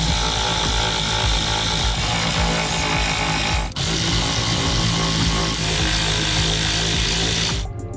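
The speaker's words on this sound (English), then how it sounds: "Now we're going to remove the 4 screws holding in the factory speaker." A power tool whirs continuously, driving out factory speaker screws in a 2003 Honda Accord, loud and close, with a brief dip midway and a stop at the end.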